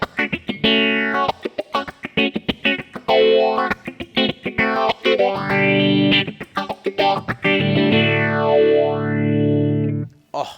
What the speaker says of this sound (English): Oh, that is a phaser, and it is lush.